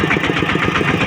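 A tractor engine chugs steadily and loudly up close, with an even thumping rhythm, while the tractor is driven toward a market in Laos.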